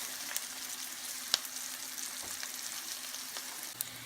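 Onions fry gently in a pan, giving a steady, soft sizzle with a few faint clicks of stirring throughout.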